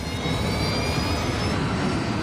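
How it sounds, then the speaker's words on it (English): Loud, steady jet engine roar with a high whine from an airliner's wing-mounted engines, building power and filling the whole stretch without a break. "The crew brings up power to the engines on the wings."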